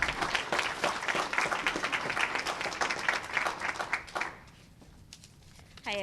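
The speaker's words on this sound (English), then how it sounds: "Let's give her a round of applause." An audience at a mayoral bill-signing event for building emissions legislation gives a round of applause, dense clapping for about four seconds that drops away to near quiet, followed by a brief sound at the end.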